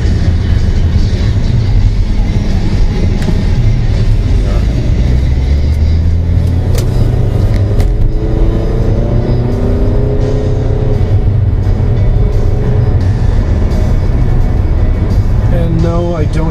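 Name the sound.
Mercury Milan car driving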